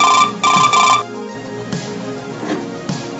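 A Retro Brick Bluetooth cell phone handset, styled as a 1980s brick phone, rings loudly in three short electronic bursts, then stops, followed by quieter clattering and room noise.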